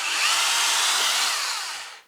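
A power drill bores screw holes for a door hinge, one loud continuous high whine that holds steady, then fades and stops near the end.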